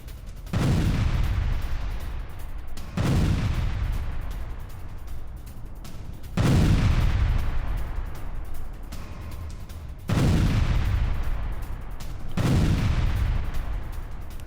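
Heavy explosions boom during a strike on a Russian warehouse: five powerful blasts at intervals of a few seconds, each a deep, loud crack followed by a long rolling rumble that decays, with gunfire crackling in between.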